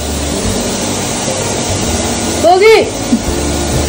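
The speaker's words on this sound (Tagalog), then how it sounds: "Hindi ako marinig. Nag-vacuum siya eh." A household vacuum cleaner runs steadily at home while a woman calls out briefly over its constant whirring drone.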